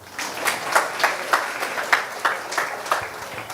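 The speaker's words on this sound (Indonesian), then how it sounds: "tepuk tangan dulu" An audience at a church talk claps together in a short round of applause, with steady, moderately loud claps over a few seconds.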